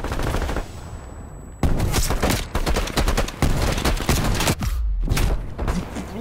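Rapid automatic gunfire from a player's weapon in Call of Duty: Black Ops Cold War, loud and close, in continuous bursts with brief pauses between strings of shots.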